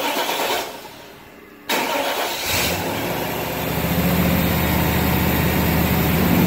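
A 1998 Chevy 5.7 Vortec V8 with a bad spider injector cranks, fires up and settles into a steady, close, loud idle that continues to the end.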